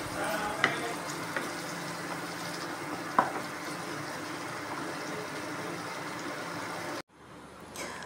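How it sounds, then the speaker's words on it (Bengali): Onion, potato and egg fry in a pan with a steady, close sizzle and a few sharp utensil clinks. The sound cuts off abruptly near the end, leaving faint background hiss. "আমি একটু পেঁয়াজটা ভেজে দিচ্ছি, পেঁয়াজ আলু আর ডিমটা একটু ভেজে দিয়ে"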